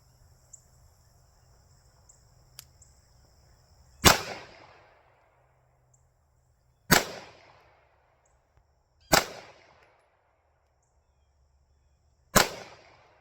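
Four sharp, loud pistol shots from an Alpha Foxtrot Romulus ring out at a target about 7 yards away, spaced a few seconds apart, each with a short echoing decay in quiet outdoor air.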